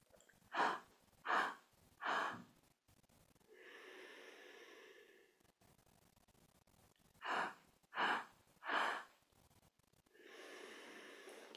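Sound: breathing: three inhales through mouth, long exhale through nose

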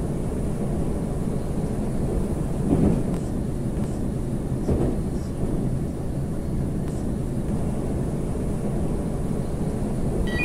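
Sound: Moscow metro train running on the Nekrasovskaya line

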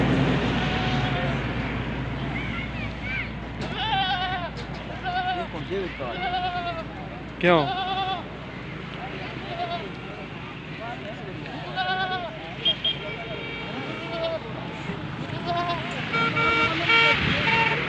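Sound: goats bleating at a livestock market

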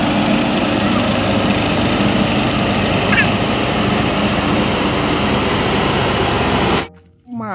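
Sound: toy steamroller engine running

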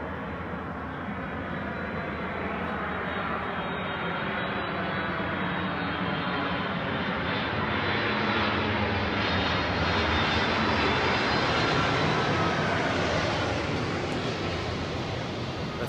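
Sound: airplane flying in loudly

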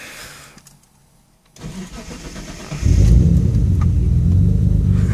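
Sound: Mitsubishi 3000GT VR-4 engine first cold start on ethanol

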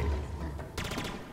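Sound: weapon firing in Halo Infinite video game

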